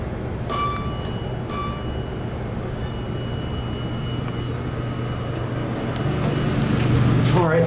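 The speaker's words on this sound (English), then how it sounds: "we're gonna get outside and ring the bell. I really want to hear this chime." A hydraulic elevator's bell at the University of Houston's Graduate School of Social Work chimes twice, about a second apart, with bright ringing tones over a steady mechanical hum.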